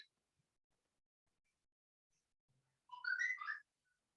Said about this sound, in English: there is a lot of notification messages in your handphone